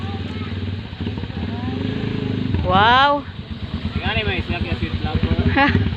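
A motorcycle engine chugs and revs close by on a street in Guinobatan during Christmas festivities. Lively voices, laughter and an excited exclamation ring out over the steady engine throb.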